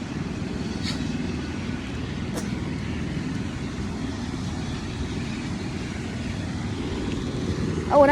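A helicopter flies overhead outdoors, heard as a steady low rotor rumble that holds throughout and swells slightly at the end.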